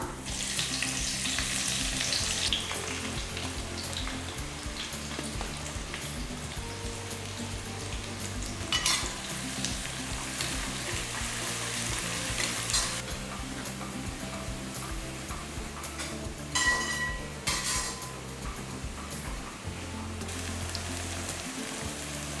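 Sliced big onions fry with fennel and cloves in a pan, a steady hissing sizzle throughout with a few brief louder bursts and light stirring sounds.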